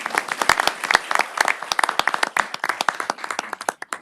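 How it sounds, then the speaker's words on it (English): Audience at a city council meeting claps for an award recipient, a steady patter of many hands at moderate distance, sharp irregular claps sustained throughout with no talk over them. "We can clap."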